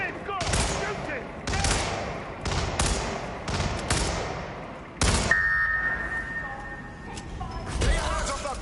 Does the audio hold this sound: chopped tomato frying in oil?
no